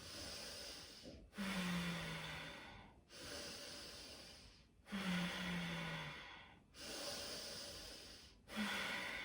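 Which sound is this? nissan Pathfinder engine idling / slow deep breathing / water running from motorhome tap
slow deep breathing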